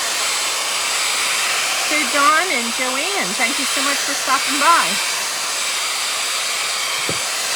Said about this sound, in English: So let me unplug that, plug my hairdryer in.